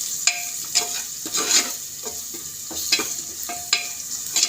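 Masala sizzles steadily in hot oil in a pan for tomato rice, while a spoon scrapes and stirs through it in repeated, close strokes.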